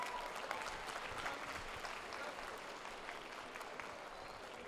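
Applause from a convention audience at a Sunday awards ceremony, steady and moderately distant, filling the whole stretch with no break.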